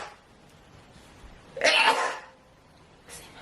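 A single sharp sneeze from a young Japanese woman with hay fever, close and fairly loud against quiet room tone, followed by a brief softer breath.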